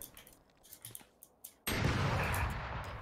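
Gunfire in a PC shooter game comes first as sharp scattered pops and then as a sudden loud, sustained blast that fills the rest of the moment.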